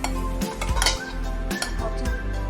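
Cold rice noodle salad tossed with onion in a bowl produces repeated clinks, scrapes and knocks of utensils against the dish, close and fairly loud.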